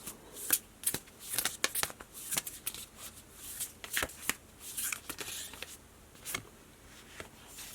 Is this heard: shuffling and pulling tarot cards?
yes